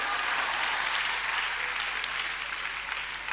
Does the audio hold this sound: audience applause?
yes